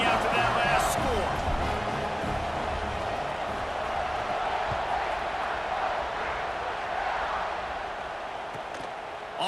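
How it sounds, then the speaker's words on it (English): A stadium crowd in the College Football 26 video game buzzes loudly and steadily after a score, a dense continuous roar under a commentator's voice. "this crowd is buzzing after that last score"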